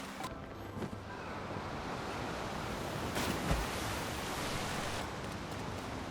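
A waterfall roars under Zora's Domain in Zelda: Tears of the Kingdom as a steady, broad rush of falling water with a few faint taps on top.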